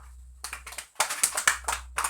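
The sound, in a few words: applause, classroom clapping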